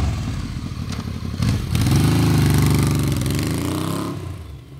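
A 1979 Yamaha XS750 motorcycle starts off, with a few clattering mechanical knocks followed by the engine revving up loudly and pulling away, its tone holding steady, then slowly fading as it rides off.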